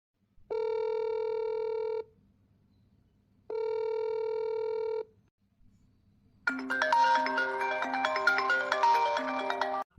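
A phone call rings out: two long, steady electronic ringback tones with gaps between them, followed by a bright, busy melodic ringtone playing loudly, with no one speaking.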